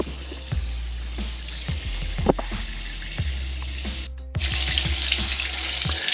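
Water draining from the fresh water tank at the rear of a Grand Design Reflection 295RL travel trailer, a continuous splashing rush with scattered knocks and drips that grows louder and more hissing toward the end.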